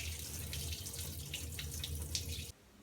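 Tap water runs steadily into a sink while sorghum grain is rinsed, a continuous close hiss of flowing water that stops abruptly near the end.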